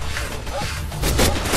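Gunfire crackles in the jungle combat video game Raven Squad: Operation Hidden Dagger, with dense, loud bursts and impacts over a rumbling low end that swell near the end of a short clip.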